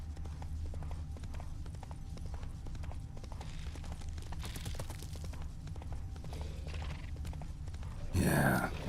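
Roach, a horse in The Witcher 3, gallops with steady hoofbeats at a fairly even level under low game ambience and music, with a louder burst of sound near the end.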